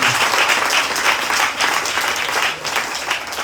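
Church congregation breaks into sustained applause acclaiming God during an evening gathering, a dense, steady wash of clapping from many hands that holds loud and even throughout with only slight dips.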